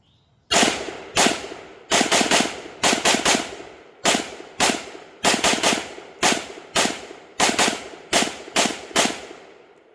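A Sugar Weasel rifle fires in a series of rapid bursts and quick strings of sharp, loud shots, with brief pauses between groups, close by and without talk.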